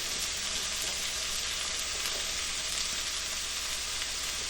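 Onion sautés in a pan over slightly lowered heat, a constant, even sizzle with no talking.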